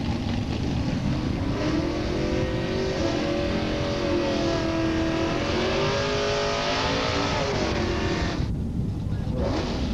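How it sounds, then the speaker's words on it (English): Garcia brothers' Camaro drag car doing a hard burnout at Edinburg International Dragway in 1986, a loud sustained engine roar with rising and falling revs, close, cutting off briefly near the end. "Garcia brothers making a hard burnout in their Camaro."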